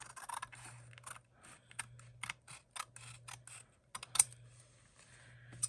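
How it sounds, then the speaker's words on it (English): Scissors snip through paper while making over a Dollar Tree mini composition book into a journal: rapid bursts of crisp cuts with short pauses, close and dry over a faint low hum, no talking. "might as well cut these while I have the scissors out"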